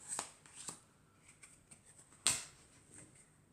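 Elf oracle cards are handled and shuffled, giving a few soft, quiet card flicks and slaps spread across the moment, with one sharper snap in the middle.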